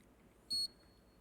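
Quiz contestant's buzzer at a national corporate quiz final, a single short electronic beep in an otherwise quiet room.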